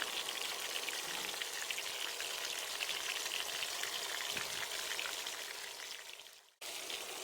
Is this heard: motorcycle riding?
no